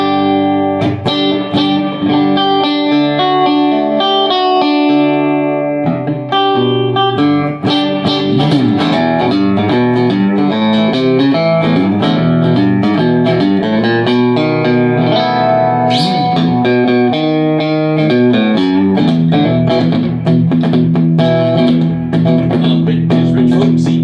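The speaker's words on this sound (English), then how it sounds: "a little Fender Deluxe style spring reverb" Electric guitar, a vintage Continental f-hole archtop, plays chords and single notes through an amplifier with washy Fender Deluxe-style spring reverb, continuous and loud, with no talking.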